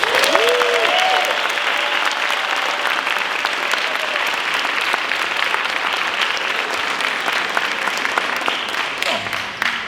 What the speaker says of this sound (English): Please give Mr. Peter Holt a warm welcome and a round of applause.